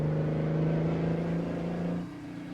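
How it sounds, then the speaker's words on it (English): A car passes with a steady, race-car-like engine drone that holds close and loud, then eases off and fades slightly near the end. "Sounds like a race car."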